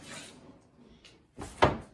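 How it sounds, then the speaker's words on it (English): A hard tri-fold tonneau cover on a truck bed is opened, giving a soft rubbing slide, then a short pause and a sharper clunk and scrape of the panel shifting, close by. "what we're gonna do now is we're gonna go ahead and open the cover back up"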